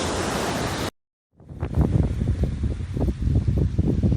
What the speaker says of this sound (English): This is the beach we started out at.